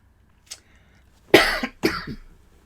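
Two sharp coughs in quick succession, close and fairly loud, preceded by a faint short click in an otherwise quiet room.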